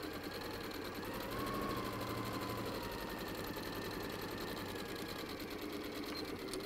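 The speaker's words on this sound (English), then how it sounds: "you're sewing along that line, so take it steady" A sewing machine stitches fabric along a seam line with a steady, rapid mechanical chatter, quiet and continuous throughout.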